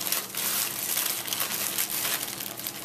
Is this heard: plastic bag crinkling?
yes